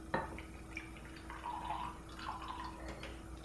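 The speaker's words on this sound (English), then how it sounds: "We're going to dump a little water in there." Water is poured from close by onto stevia sweetener in a cup, a faint, soft trickle and splash in a quiet room.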